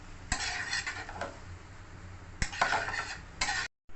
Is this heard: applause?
no